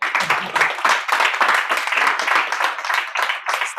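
An audience at an awards event hall claps briskly, close and loud, individual hand claps distinct within the steady applause for nearly four seconds.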